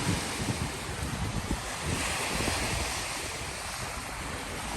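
Steady wash of sea surf on a beach mixed with wind buffeting the microphone, continuous and fairly loud with no voices.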